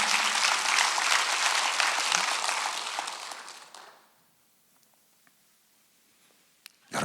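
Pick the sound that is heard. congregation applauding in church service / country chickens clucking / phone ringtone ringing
congregation applauding in church service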